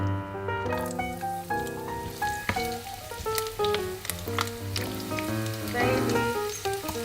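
Garlic frying in hot cooking oil in a pan, a soft continuous sizzle running under background music with clear tonal notes throughout.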